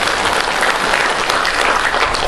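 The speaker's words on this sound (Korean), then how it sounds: "박수를 한번 뜨겁게." Warm, sustained applause from a crowd at a Korean international diplomacy and security forum lecture in Dangjin, welcoming General Park Seung-chun; dense, steady clapping fills the whole moment without voices.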